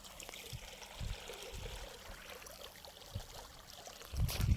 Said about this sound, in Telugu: నీళ్ళు వస్తున్నాయి చూడండి ఫ్రెండ్స్.